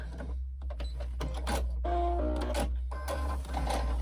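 A domestic sewing machine stitches across the edge of a handbag base, a close mechanical whirring in several short bursts separated by brief pauses.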